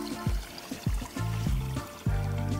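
Gentle trickling of a small spring-fed stream with bubbly, gurgling pops that repeat irregularly, close by and fairly quiet, no voices.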